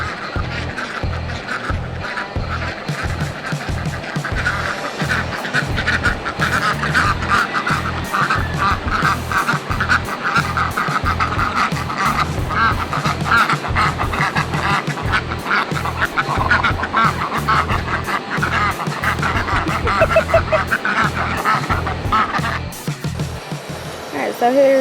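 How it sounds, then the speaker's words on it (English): Ducks quack repeatedly while scuffling with a rooster outdoors, four ducks ganging up on it, a busy continuous squabble of calls and flapping with people talking over it throughout. "It's a duck and a rooster fight."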